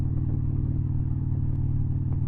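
A 2012 Victory Vision motorcycle engine rumbles steadily while riding, a continuous low, loud drone with even harmonics and no change in pitch, heard alone with no talk.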